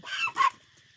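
Chickens squawk and cluck in two short, loud bursts close by, the second sharper and more strained as if in a scuffle, then the sound drops to near quiet.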